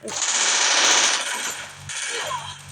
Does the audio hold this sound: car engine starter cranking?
no